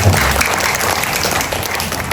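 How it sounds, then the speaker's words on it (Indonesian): Audience applause for the caterers at an evening Mass in a prayer garden, a steady wash of clapping filling the short moment at even loudness. "kita beri tepuk tangan untuk mereka."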